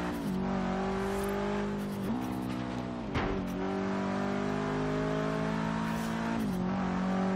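A 500hp Subaru WRX STI in Forza Horizon 3 revs hard and accelerates through several gear changes, its engine note climbing, dipping at each shift, then climbing again, loud and steady with no talking.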